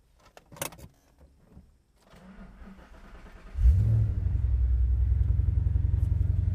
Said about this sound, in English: Some people have been asking about the exhaust. I got it redone recently